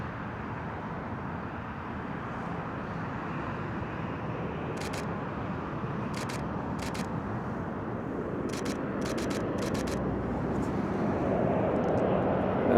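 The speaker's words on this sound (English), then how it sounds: "And here comes the Qatar A350 right here." An Airbus A350 airliner in Qatar Airways livery passes overhead as a steady, broad jet roar that swells gradually toward the end, with a few camera shutter clicks sounding close by.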